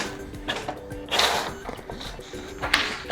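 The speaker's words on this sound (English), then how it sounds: "the printer is receiving data and printing something" A Brother MFC-J4335DW inkjet printer runs a print job with short bursts of mechanical whirring, clicking and a brief sweeping rush of the print head, all nearby and moderately quiet.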